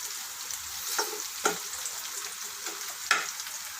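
Chopped onions fry and brown in a pan for a dragon beef fry, giving a soft, steady sizzle broken by a few sharp scrape-and-stir knocks, fairly quiet and without talking.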